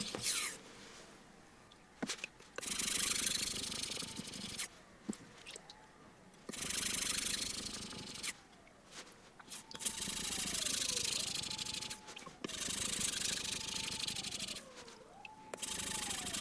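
A kitchen knife blade scrapes back and forth across a 13000-grit whetstone in long, gritty strokes, separated by brief pauses, close and fairly quiet.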